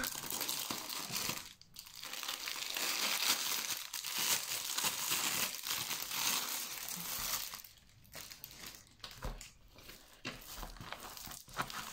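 Plastic packaging of a diamond painting kit crinkles and crackles as it is handled and opened, loud and close, in continuous rustling with a few brief pauses.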